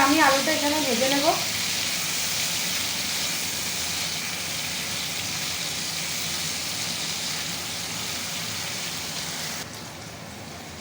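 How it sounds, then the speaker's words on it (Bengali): Potatoes frying in a pan of oil that was just used to fry fish, giving a steady, dense sizzle that holds evenly throughout. A short tonal sound opens it, and the sizzle drops slightly near the end. "তো এবার আমি আলুটা এখানে ভেজে নেব"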